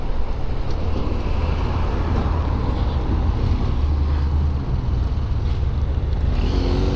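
A BMW F700GS inline-twin motorcycle rolling along and turning, a steady low engine drone mixed with heavy wind rush over the rider's microphone, continuous and loud with a slight dip midway.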